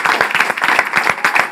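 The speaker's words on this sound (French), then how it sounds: "je vais vous demander un tonnerre d'applaudissements pour lui" A studio audience on a Creole culture TV set bursts into rapid clapping, a dense close burst of many hands lasting a moment.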